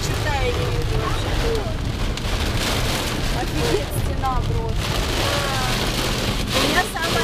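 Heavy rain pours down steadily as a dense, unbroken wash of noise, with voices talking over it throughout.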